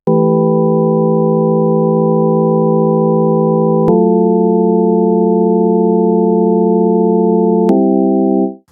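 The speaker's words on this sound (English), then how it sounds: "Now this sounds much more reminiscent of an organ." Synthesizer pad chord built from a fundamental, a seventh and an octave, giving a sustained organ-like tone that holds steadily, shifts pitch twice with brief clicks, then cuts off at the end, loud and alone.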